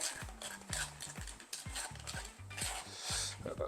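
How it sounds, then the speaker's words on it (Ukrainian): Quartz epoxy floor compound stirred thoroughly after the catalyst is added, a rhythmic run of close scraping and knocking strokes repeating steadily. "Додаємо каталізатор, ретельно вимішуємо."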